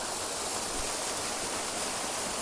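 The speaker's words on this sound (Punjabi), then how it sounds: "ਪੰਜਾਬ ਚ ਹੈ ਝਰਨਾ" A hill waterfall stream in Punjab pours steadily, a dense, even rush of falling water heard alone and fairly close, with no voices.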